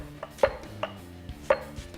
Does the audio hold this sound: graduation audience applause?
no